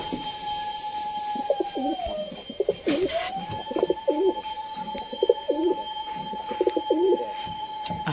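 Homing pigeons coo in repeated soft throaty bursts nearby, over a steady background tone, with short gaps between the rolling calls.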